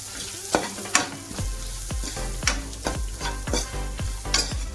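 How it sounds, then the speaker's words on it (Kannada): Coriander powder and spices heating in a pan sizzle softly while a spoon scrapes and stirs in regular strokes, close by and with no voices. "ಇದಿಷ್ಟನ್ನು ಚೆನ್ನಾಗಿ ಮಿಕ್ಸ್ ಮಾಡಿ ಚೆನ್ನಾಗಿ ಕಾಯಿಸ್ಕೋಬೇಕು"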